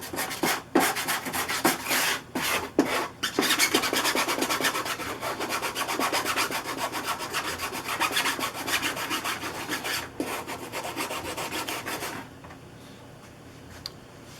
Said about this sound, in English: this is 120 grit sandpaper, and it cuts the edge quite nicely right at the edge of the glue.